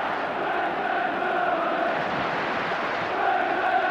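Old Trafford football stadium crowd on a European night, Manchester United against FC Barcelona in 1994, roaring steadily and loudly for the whole stretch, a dense wash of voices that swells slightly near the end.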